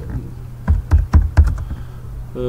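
Keystrokes on a computer keyboard while text is entered into a spreadsheet cell, four or five distinct close clacks in a quick irregular run, followed by a short electronic tone at the end.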